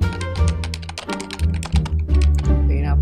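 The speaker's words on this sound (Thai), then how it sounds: "พิมพ์แบบนี้ครับ" Computer keyboard typing in a quick run of dense key taps, with music playing loudly underneath throughout.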